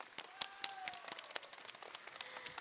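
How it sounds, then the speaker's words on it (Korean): Scattered clapping from an audience at a children's musical troupe performance, faint and brief with a few sharp claps over a quiet hall, a faint tone lingering in the background. "박수!"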